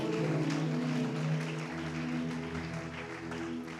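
Church congregation applauding and cheering during a French-language worship service, a sustained wash of clapping with music and voices beneath, steady and fairly loud throughout.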